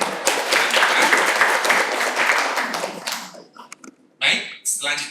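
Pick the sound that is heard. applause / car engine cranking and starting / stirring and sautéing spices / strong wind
applause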